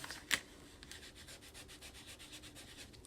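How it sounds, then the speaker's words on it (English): A bone folder rubs over paper card in quick repeated soft scraping strokes, faint and close, after one sharper tap at the start. "bone folder and just rubbing those little creases out"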